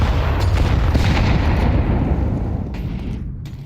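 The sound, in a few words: grenades exploding in Counter-Strike video game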